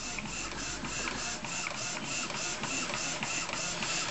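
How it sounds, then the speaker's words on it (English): Epson SX405 inkjet printer printing at high quality, a close, continuous mechanical whir with a regular pulsing rhythm as the print head shuttles back and forth. "so it's set to high quality printing. So it will take a bit of time to go through."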